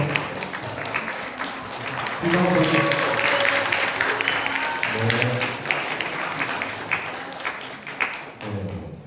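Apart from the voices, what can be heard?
applause in church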